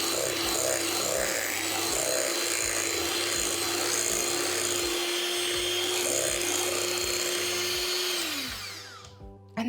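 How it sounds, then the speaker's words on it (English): An electric hand whisk beating a shea butter body butter mixture with lavender and grapefruit, a loud, steady, close motor whine that winds down and stops near the end. "So I'm going to carry on whisking now. It's a bit noisy"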